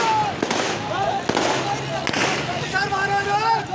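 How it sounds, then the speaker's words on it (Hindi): Gunfire during street clashes at a rally in Muzaffarabad, Azad Kashmir, police shots ringing out as several sharp bangs amid stone-throwing, with a crowd shouting and people talking throughout. "ये फायरिंग हो रही है, स्टेट फायर हो रहे हैं"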